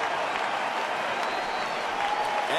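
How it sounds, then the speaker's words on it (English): A large baseball stadium crowd of about 28,000 at a Cleveland at Detroit game roars and applauds in a steady, loud wash, with a broadcaster's voice faintly beneath. "Here comes the crowd."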